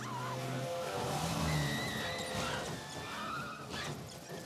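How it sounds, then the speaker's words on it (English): A Mini speeds through a film car chase, tires squealing and skidding as the engine revs, with a loud, continuous rush of motor and screeching rubber. "oh yeah, the car chase with the Mini."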